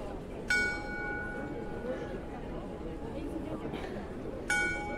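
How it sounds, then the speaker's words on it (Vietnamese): A bell in a town square rings twice, a clear metallic clang near the start and another near the end, over a steady murmur of outdoor crowd noise and voices. "vẫn còn chuông kêu đó các bạn thấy không?"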